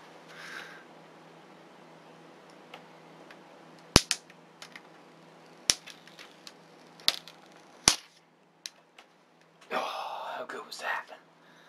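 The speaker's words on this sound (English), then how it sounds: "So I can still say I unwrapped the plastic off of it on camera." Plastic wrap being peeled off a Dell Vostro 220s desktop PC, sharp isolated crackles and snaps spaced a second or so apart over quiet room tone, ending in a louder rustling burst of crinkling plastic.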